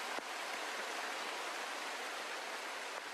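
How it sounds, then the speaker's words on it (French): Shiraito no Taki waterfall at Mount Fuji, its water pouring off the cliff in a steady, dense rushing roar that holds unbroken throughout with no voices. "L'eau jaillit implacablement de la falaise."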